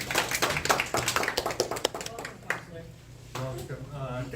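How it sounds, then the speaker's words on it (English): A community safety event audience claps for a speaker, a couple of seconds of scattered close hand claps that fade out, followed by a voice talking. "give it a round of applause to Parthi."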